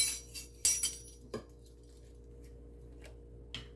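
A metal teaspoon lifted from a kitchen drawer while baking pumpkin bread: a few light clinks and rattles early on, then sparse faint taps in a quiet room.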